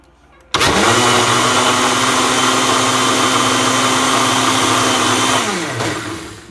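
A blender mixing protein pancake batter whirs into action with a sudden loud start, runs at a steady high hum for several seconds, then winds down.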